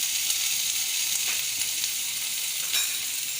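Ginger garlic paste fries in hot oil, giving a steady, loud high sizzle that runs throughout with a few soft stirring scrapes and no talking.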